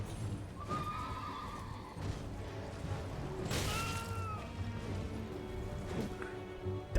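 In the Elden Ring video game, a horse lets out whinnies and snorts over a clatter of hooves, with a sharp impact partway through amid game ambience.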